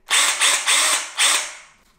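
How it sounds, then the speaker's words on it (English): Ryobi 18V cordless SDS hammer drill running its hammer action unloaded, three loud close bursts of rapid mechanical hammering separated by short pauses, the last winding down and fading. "You can see it's got a decent hammer action there."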